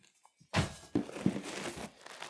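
A large plastic zip bag holding a wrapped sport coat is handled, giving close crinkling and rustling with a few sharper crackles after a quiet start, continuing steadily.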